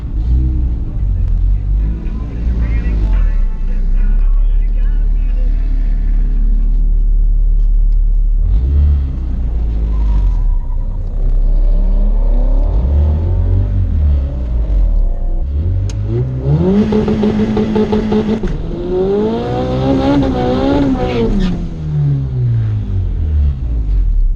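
A turbocharged B20 car does a burnout and launch, its engine roaring and revving loud and near in repeated rising sweeps between gear changes, with a constant rumble and talk over it.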